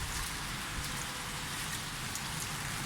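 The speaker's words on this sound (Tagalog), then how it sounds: "Napakalakas ang ulan dito ngayon." Heavy rain pours down steadily on a street where floodwater is getting deep, a dense, loud hiss of drops drumming on surfaces with no pauses and no voices.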